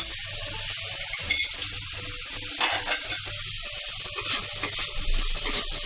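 Seasoned food, with sugar, salt and ground pepper, sizzles steadily in a hot pan in an Indian kitchen while a utensil stirs it, giving intermittent scraping strokes over the continuous frying hiss, close up, with no talking.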